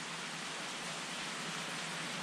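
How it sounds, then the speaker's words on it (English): Hail pours down steadily as a dense, even hiss of countless small impacts, loud and unbroken, with no voices. "It's literally hailing."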